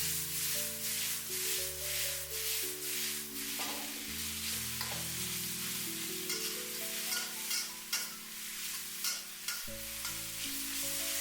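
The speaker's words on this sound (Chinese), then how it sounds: "快速翻炒均勻，把杏鮑菇炒出醬香味" King oyster mushrooms stir-fried with oyster sauce and soy sauce in a hot wok sizzle continuously, with quick scraping stirs over a loud, steady frying hiss while music plays along.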